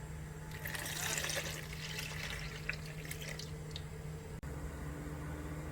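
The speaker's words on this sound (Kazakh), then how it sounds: "Үстіне жылы сүтімізді құямыз." Warm milk poured into pancake batter in a bowl, a steady trickling liquid splash with soft squishy mixing sounds, close and moderately quiet, with a faint low hum underneath.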